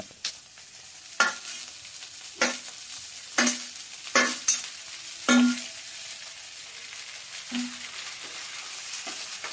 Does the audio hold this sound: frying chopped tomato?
yes